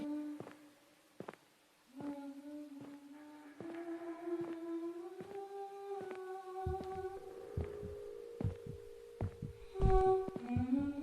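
A heartbeat sound effect in the Roblox horror game The Mimic thumps in a steady, regular rhythm under sustained, eerie tonal music that swells and grows louder toward the end.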